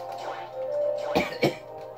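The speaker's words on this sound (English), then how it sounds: "I have fake coughs and real coughs in here." Two short coughs in quick succession come through close and clear, following a faint hum and throat noise, with no talking.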